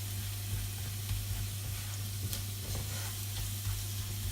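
Pork browns in a pan for caramel pork, giving a continuous close sizzle and crackle with a low steady hum beneath and faint intermittent stirring.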